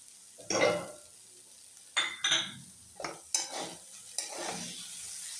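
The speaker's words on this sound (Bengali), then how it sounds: "ভালোভাবে কষিয়ে নিচ্ছি। এবার মটরশুঁটিগুলো দিয়ে দিলাম।" Masoor dal being sautéed in a pan with green peas, with several separate bursts of spoon scraping and stirring against the pan, fairly close and moderately loud, with no talking.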